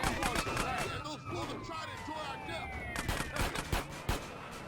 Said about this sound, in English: I gotta see this explosion right here.